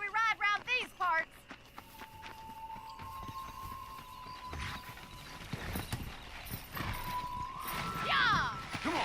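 A horse gallops in a race in Red Dead Redemption, hoofbeats quickening in the second half under game sounds and a whinny, after a short burst of voices at the start.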